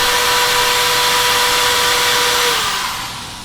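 Power drill whining steadily with a Phillips head bit while fitting bolts on a drift car, a close, loud sustained motor tone that holds then fades out near the end.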